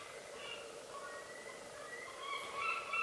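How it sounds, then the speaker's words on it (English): Distant seagulls call in short, thin cries across the background, faint at first and growing a little clearer toward the end, over soft ambient noise. "Can you hear the seagulls in the background?"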